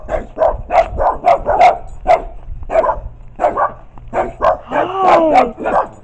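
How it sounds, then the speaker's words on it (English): Several dogs barking and yipping in repeated bursts at a home estate, fairly close, with a woman greeting them over the barks. "Hi, doggies!"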